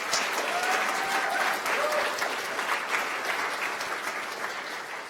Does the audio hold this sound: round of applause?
yes